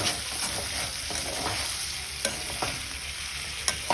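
Chicken frying in a pan sizzles steadily and close while being stirred, with regular scraping strokes and a few sharp utensil clicks toward the end.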